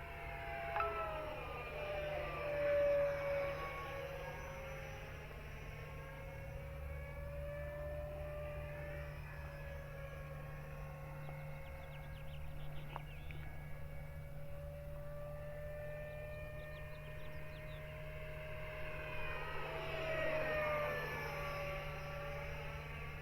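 An FMS Futura 64mm electric ducted fan model jet flies at about half throttle, its whine rising and falling as it passes to and fro at a distance over a steady low hum.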